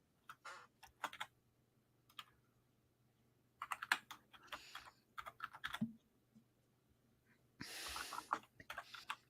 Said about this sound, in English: I'm typing something, so just bear with me.